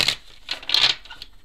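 A deck of tarot cards is shuffled up close in a few quick papery riffling bursts with short gaps between them, with no voices.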